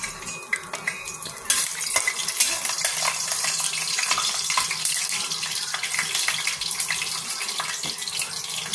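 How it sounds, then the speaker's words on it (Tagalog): Garlic being sautéed in a pan for chicken tinola, a busy crackling sizzle that swells after a sharp opening clatter, with scraping and stirring sounds continuing close and steady throughout. "igigisa na po natin ang ating bawang"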